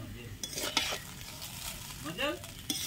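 Fried rice being stirred in homemade ghee in a wok over a clay stove: quiet scraping stir strokes over a soft sizzle, with a few sharper metallic knocks.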